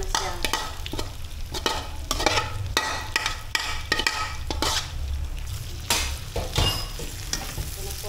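Tenderized meat for Filipino igado sautéing in a pan, with a steady sizzle of frying under repeated scraping and stirring strokes of a utensil, close and busy, no speech.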